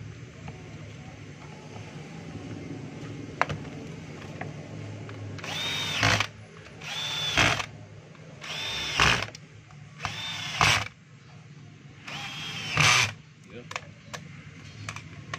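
A power drill runs in five short bursts, each about a second long with brief pauses between, as screws are driven into a Stanley heat gun being reassembled after a wiring repair. The drill is close and loud over a low background hum.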